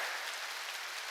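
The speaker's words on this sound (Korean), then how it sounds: "박수 치려면 세게 치라니까." A church congregation claps hard during a sermon, producing a dense, rain-like wash of rapid hand claps that stays loud and steady for a short stretch, with no voices over it.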